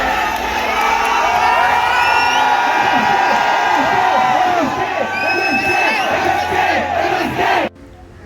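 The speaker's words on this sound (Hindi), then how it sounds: "ये अचानक से इतना ज़्यादा शोर शराबा की वजह ये नहीं थी कि एमएसके साहब आ गए थे।" At a fan meetup in Barasat, a large crowd cheers, whoops and shouts continuously and loudly for several seconds. High excited voices rise above the din before it cuts off abruptly.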